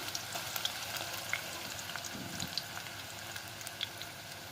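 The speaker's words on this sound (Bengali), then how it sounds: "চাটি দিয়ে একটু পেঁয়াজগুলো বেজে নিচ্ছি" Chopped onions frying over raised heat in a pan while a spatula turns them, giving a continuous close crackle and sizzle dotted with small pops.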